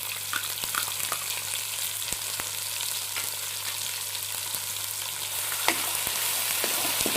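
Ginger and crushed green chillies fry in a pan as a filling for radish paratha, giving a soft, even sizzle with scattered small pops and stirring scrapes, close and moderately quiet.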